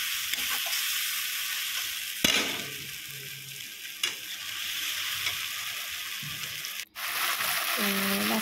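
Onions and spice paste fry in a pan for a Bengali pabda fish curry, giving a steady broadband sizzle throughout with a few louder stirring scrapes and knocks, one brief dropout near the end, then sizzling resumes.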